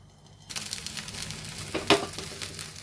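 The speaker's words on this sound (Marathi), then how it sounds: "दुसरीकडून पण भाजून घेते" Makhana uttapam, a fasting-style pancake made without soda or Eno, sizzles steadily on a hot pan after being flipped, starting abruptly and holding a soft, close crackle with one brief louder pop.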